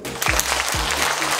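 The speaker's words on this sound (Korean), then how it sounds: "박수를 치면 몸도 좋아지고," An audience claps hands together during a public lecture in Buyeo County, South Korea; dense, steady applause fills the whole moment, with a few low thumps underneath.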